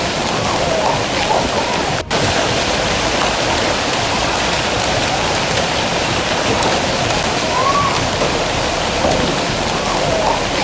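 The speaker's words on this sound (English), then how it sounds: "Sydney's streets suddenly turned into icy rivers as hail poured down from the storm" Hail pours down in a storm over flooded Sydney streets, a steady loud hiss of heavy pelting and rushing water that stays even for about ten seconds, with one sharp click near the start.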